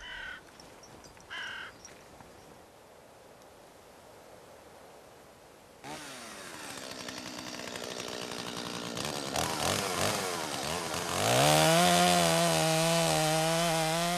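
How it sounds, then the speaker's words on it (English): Crows caw a few times in a quiet forest before a chainsaw starts cutting timber, its whine building and rising in pitch to a loud, sustained howl. "The howl of a chainsaw brings back the present."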